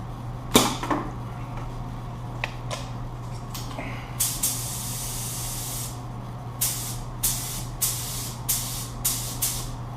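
A spray gun releases sealer in a series of short, sharp hissing bursts, a few scattered early and then a regular run of quick pulses near the end, over a steady low hum.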